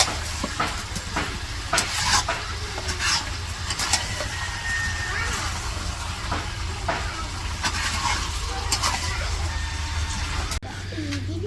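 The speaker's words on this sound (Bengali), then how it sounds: "ওইদিকে তো মুরগি রান্না বসাইছে, কষাইতেছে" Chicken pieces frying and being stirred in spice paste in a rural Bangladeshi kitchen, a steady close sizzle with scraping and clatter, under a continuous low engine-like rumble.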